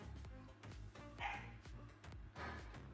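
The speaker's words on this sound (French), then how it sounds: "C'est un vrai chien de garde hein." A guard dog in a garage barks repeatedly in short, sharp bursts, fairly close and loud, with brief pauses between the barks.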